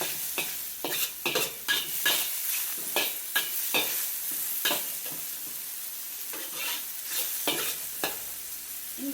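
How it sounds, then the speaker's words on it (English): Mushrooms including enoki sizzling in hot oil in a pan and being tossed with a utensil, a steady loud frying hiss broken by repeated stirring scrapes and clatters, with no talk. "in with our mushrooms. Good sizzle. Toss them around to coat in the oil."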